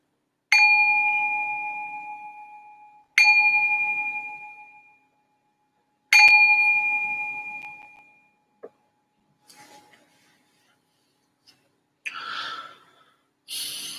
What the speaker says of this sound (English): I'm going to ring the bell just to signal the start of this meditation.